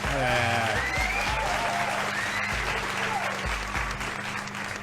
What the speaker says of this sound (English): clap it up one time